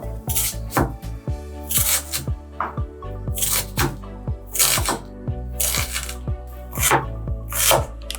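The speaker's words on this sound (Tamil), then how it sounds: "இது நம்ம குட்டி குட்டியா வெட்டிக்கலாம்." A knife chops two large onions into small pieces, making crisp, close, rhythmic strikes on a board, roughly one or two each second, over soft background music.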